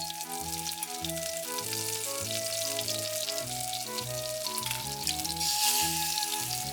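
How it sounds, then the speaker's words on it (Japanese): Karaage chicken shallow-frying in oil, a dense steady sizzle and crackle under background music with clear tonal notes throughout. "揚げ焼き中の唐揚げは焦げないようにひっくり返します。"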